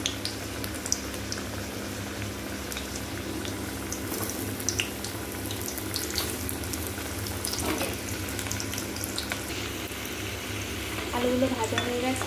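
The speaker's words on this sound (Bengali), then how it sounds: "তেল গরম হয়ে গেছে, আলুগুলো তুলে দিই।" Potatoes frying in hot oil in a kadai, a steady broadband sizzle and bubbling with occasional stirring clinks, continuous and close, swelling slightly louder near the end.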